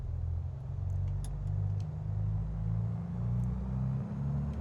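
A steady, droning engine rumble with a slow pulsing beat, low and continuous throughout, from the twin 180 piston engines of a Piper PA-44 Seminole idling in Microsoft Flight Simulator 2020.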